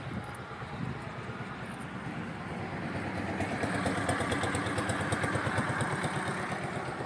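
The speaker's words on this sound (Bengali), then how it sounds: "এইদিকে ইঞ্জিন ভ্যান যাচ্ছে।" A motorized engine van runs nearby outdoors, its engine chugging steadily and growing a little louder as it passes, with no talk.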